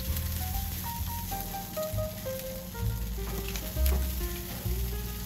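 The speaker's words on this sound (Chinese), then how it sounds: "可以听到呲呲的响声" Cumin-seasoned lamb chops roast in an oven at 250 degrees, giving off a steady, fairly soft sizzle and crackle that runs the whole time without pause.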